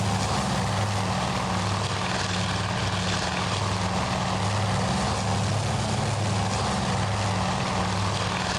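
Japanese bomber engines in a naval war game give a steady, loud propeller drone with a low rhythmic throb, unbroken throughout and without speech.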